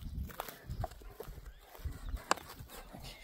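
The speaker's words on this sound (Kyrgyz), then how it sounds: "Ат оң жака буруп коесуң, а?" A horse shifting its hooves as it is turned in place, several uneven dull thuds and a sharp clop against faint background noise and distant voices.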